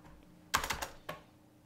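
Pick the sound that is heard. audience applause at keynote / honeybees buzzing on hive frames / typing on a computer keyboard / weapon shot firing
typing on a computer keyboard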